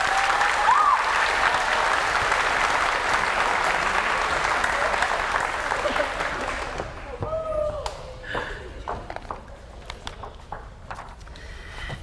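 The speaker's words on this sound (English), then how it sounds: "Let's give her a round of applause." At a middle school eighth grade advancement ceremony, an audience applauds a teacher in a full, sustained burst. The clapping fades over the second half, and a voice and some room sounds come through as it dies away.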